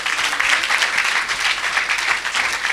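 Church congregation bursting into loud, dense applause and clapping during a worship service, continuous and close.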